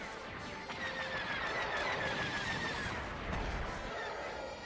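Blaster fire and explosive blasts rumble through a level of Lego Star Wars II: The Original Trilogy, a steady loud wash of shooting with a deeper boom near the end and no talking.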